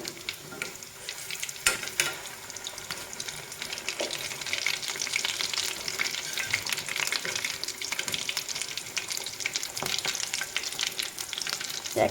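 Vegetable potato chops frying in hot oil for a crisp street-food style aloo chop, giving a steady dense sizzle and crackle with occasional clicks of the chops being turned, no talking.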